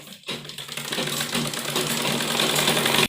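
A sewing machine runs steadily for about three seconds, putting a double line of stitching along a seam of a women's churidar pajami, its busy mechanical whir loud and close with no talking.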